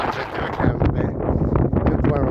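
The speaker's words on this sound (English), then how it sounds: "Damn you, wind." Strong wind buffets a microphone outdoors in a steady roar with gusty swells, loud and continuous throughout.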